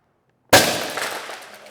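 A VFC M3 MAAWS Carl Gustaf airsoft rocket launcher fires with a single loud, abrupt gas blast after a moment of silence, leaving a hissing, rushing tail that slowly fades.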